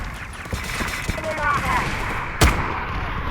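Gunfire in the Delta Force video game: a dense, steady stream of shots runs throughout, with one sharp, louder blast standing out near the end. A voice talks over part of it.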